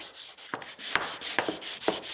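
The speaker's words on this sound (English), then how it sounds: "Because this has a finish on it, I'm just gonna scuff this" Sandpaper scuffing a smooth, finished wooden surface from an old organ being made into a bench, prepping it for glue: four short, dry rubbing strokes spaced about half a second apart, close and fairly quiet.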